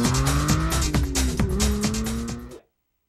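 A toy car pulls in to park with a tonal engine whine and rhythmic whirring that slows slightly before cutting off abruptly into silence.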